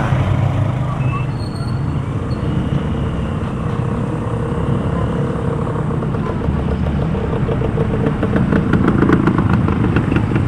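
Street traffic around the plaza of Iriga City: a continuous roadway rumble with motorcycles and other vehicles passing close by, loud and steady throughout.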